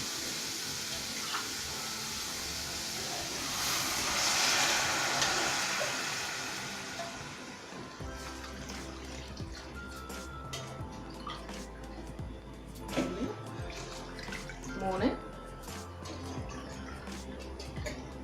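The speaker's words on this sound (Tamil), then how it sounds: "அதனால நான் போட்ட ஆலாக்கால 3 டம்ளர் தண்ணி ஊற்ற போகிறேன்." Water from a tumbler is poured into a cooking pot for rice upma, a rushing liquid stream swelling then tapering off, followed by quieter drips and small clinks in a kitchen.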